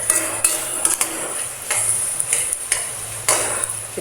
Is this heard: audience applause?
no